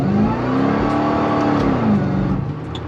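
A supercharged Ford Crown Victoria engine revving hard on a dyno during a third-gear pull, a loud sustained roar climbing in pitch and then easing off near the end.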